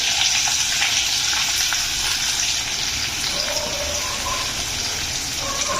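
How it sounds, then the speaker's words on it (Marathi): Chopped onion fries in a pan for a vegetable dish, giving a loud, dense, continuous sizzle close by that holds steady from start to finish without any voices. "आपल्याला हा कांदा छान मस्तपैकी एक मिनिटासाठी आपण हा फ्राय करून घेऊया"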